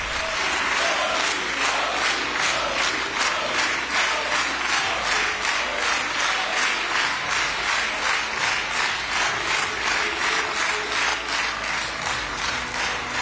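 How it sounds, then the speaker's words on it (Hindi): Sustained, loud standing ovation from Israeli Knesset members welcoming Indian Prime Minister Modi in parliament, a steady rhythmic wall of clapping with crowd voices and chanting underneath throughout. "उन्होंने खड़े होकर तालियां बजाई"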